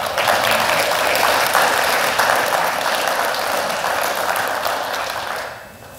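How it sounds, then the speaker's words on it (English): A church congregation claps together for Jesus at a Sunday service in Australia, the applause loud, dense and steady for several seconds before easing off at the end. "let's give Jesus a clap offering."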